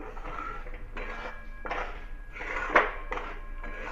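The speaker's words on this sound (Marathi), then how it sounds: "आता मी त्याच्यामध्ये हे जे मी तूप घेतलेले होते ते टाकते" A spoon scrapes and clinks against a pan as ghee is stirred into melted jaggery for peanut chikki, giving a few close metallic knocks and scrapes over a steady low background.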